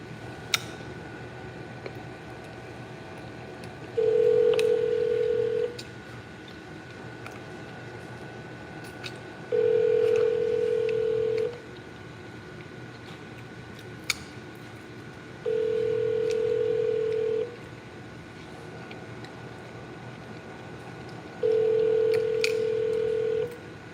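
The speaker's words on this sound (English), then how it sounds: "Let me call Andrea up" A phone line rings out during an outgoing call, with four long, steady ring tones spaced evenly apart and a faint background hum between them.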